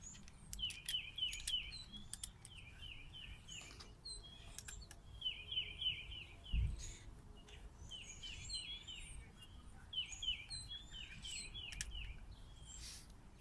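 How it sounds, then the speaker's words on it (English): Small birds chirp in quick repeated bursts of twittering notes outdoors on an early March day, with a low, faint rumble of distant traffic underneath and a single louder thump midway. "Hope you can forgive the beautiful bird noises and traffic and all of that."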